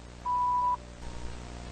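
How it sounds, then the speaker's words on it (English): A single steady electronic voicemail beep sounds for about half a second, clear and close, followed by faint background hiss. "After the beep, we will return your call."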